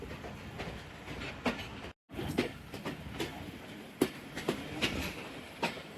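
A passenger train pulls away from Raiya Khas station and runs along the rails, a steady rumble with rhythmic clickety-clack wheel knocks and a brief cut in the sound partway through. No speech.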